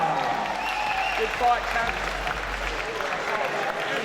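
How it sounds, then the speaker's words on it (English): Applause for a fighter after a 90kg quarterfinal bout in a combat event, steady crowd clapping throughout with an announcer talking over it. "A big round of applause, please, for Kamil Pruchenski"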